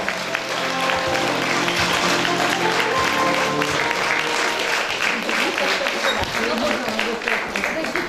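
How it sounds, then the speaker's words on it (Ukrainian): A crowd at a local self-government celebration in Vasylkiv applauds steadily and loudly for an anniversary honoree, with voices and some tonal sound running under the dense clapping. "Ваші оплески, вона сьогодні ювілярка."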